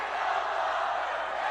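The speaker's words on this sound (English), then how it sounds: "And listen to the crowd here." A semifinal college basketball crowd at a JRU versus San Beda game roars in a sustained, dense wash of cheering that holds steady throughout.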